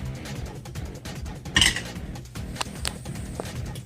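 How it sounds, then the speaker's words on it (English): Mashed rutabaga and carrots scraped back into a cooking pot, with clinking and scraping of utensil against metal, one brighter clank in the middle, close and alone without talk. "Then we're going to put it back in the pot."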